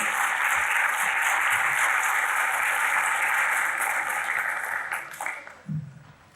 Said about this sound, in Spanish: les pido un fuerte aplauso para nuestros panelistas